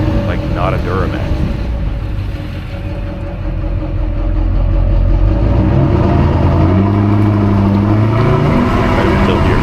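The LB7 Duramax diesel in a big blue GMC truck rumbles steadily from up close, its low drone rising slightly partway through, with a person talking over it.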